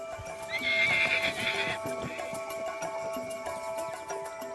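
A wild horse stallion gives a loud, ringing whinny lasting about a second near the start, close to the listener, with soft hoof clops and background ambience continuing afterward.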